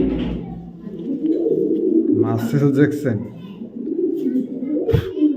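A male Maxi racer pigeon coos in low, rolling bursts close by, the calls repeating through the clip while someone talks over them.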